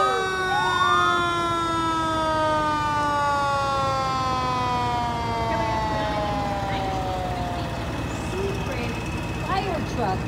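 A San Bernardino County Fire Department fire truck in a street parade sounds a loud wailing siren with falling sweeps, up close and sustained, over a rumbling engine.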